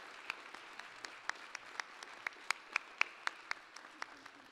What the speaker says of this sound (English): Let's give a warm round of applause to these exceptional educators.